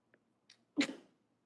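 One person sneezes once, a sharp close burst after a couple of faint breathy intakes, in an otherwise quiet room.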